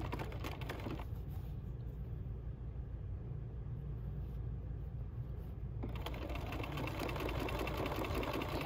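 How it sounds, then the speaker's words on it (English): Sewing machine stitching along quilt binding, a steady close mechanical hum and rumble running throughout, briefly quieter in the middle and louder again toward the end, with no talking. "I'm gonna set this down and I'm gonna stitch right along there."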